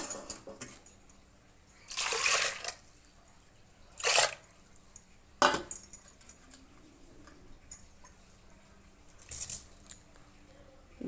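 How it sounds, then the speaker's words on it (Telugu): Water poured over a glass of lentils in a pot before cooking dosakaya pappu, heard as a few short, separate splashing pours with quiet pauses between them and faint small drips. "వాటర్ కూడా వేస్తున్నానండి"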